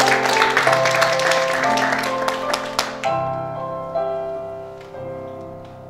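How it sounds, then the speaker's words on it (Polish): Audience at a county sports awards gala claps briefly over music with sustained tones, the applause fading out after about three seconds while the music carries on. "Wielkie brawa!"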